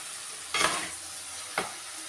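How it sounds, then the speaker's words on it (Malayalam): Papaya pieces sautéed in a pan for pickle give a faint, soft sizzle, broken by two brief scraping stirs of a spoon against the pan. "ഇപ്പോൾ പപ്പായ നന്നായിട്ട് വഴറ്റി വന്നിട്ടുണ്ട്."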